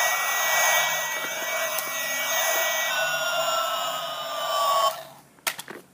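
A toy airplane's high, steady engine whine with a rising pitch drones continuously for about five seconds, then cuts off abruptly, followed by a few faint clicks.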